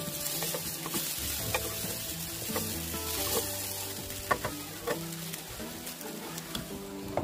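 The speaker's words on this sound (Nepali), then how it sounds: "अब यसरी छोपेर मजाले 2 मिनटसम्म सानो आँचमा हामीले पकाउँदै चलाउँदै चाहिँ गर्नुपर्छ है।" Bitter gourd and potato fry in a pan over low heat, giving a steady close sizzle broken by repeated scraping and clinking as a utensil stirs them, with no voices.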